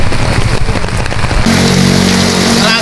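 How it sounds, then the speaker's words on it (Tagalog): Steady, dense roar of heavy typhoon rain pouring down in Marikina, Philippines, loud and continuous, with a low constant hum joining partway through. "ang malakas po ng buhos ng ulan dito sa Marikina"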